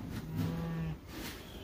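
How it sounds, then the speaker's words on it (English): A single cow moos once, low and a little distant, against quiet outdoor background. "I hear cows."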